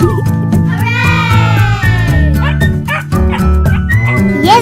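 A toy dog in a doll farm play scene yaps and whimpers in repeated short electronic barks and whines, loud and close over a bouncy music backing.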